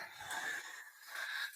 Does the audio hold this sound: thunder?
no